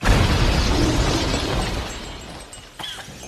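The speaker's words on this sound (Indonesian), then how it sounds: "karena si Bom bisa meledak kapan aja" Bomb, the round black bird in the animated Angry Birds movie, blows up in a loud, roaring blast that rumbles and fades over about two seconds, followed by a few scattered debris clatters.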